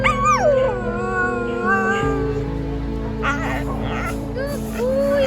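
A dog rescued in Sri Lanka gives long, wavering howls and yips that rise and fall, loud and close, with a person's voice talking over parts of it.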